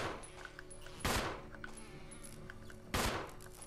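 Gunfire in the video game Resident Evil HD: two loud, abrupt bursts of shots about two seconds apart, with quieter game sounds in between.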